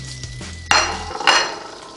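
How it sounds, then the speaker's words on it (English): Knife slicing through a cooked bratwurst on a plate after smokeless grill cooking, giving two sharp clinks of blade on plate with a soft cutting scrape between them, close and clear with no talk. "Just going to slice a bit off for my own taste test purposes"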